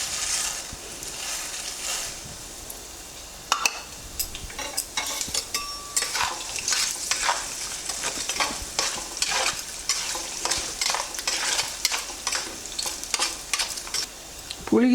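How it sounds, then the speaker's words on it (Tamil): Black urad dal sizzles and crackles in hot oil for gongura chutney, with a steady frying hiss and frequent close stirring scrapes of a spoon against the pan, no voices. "இப்போது கருப்பு உளுந்து போடுறேன்."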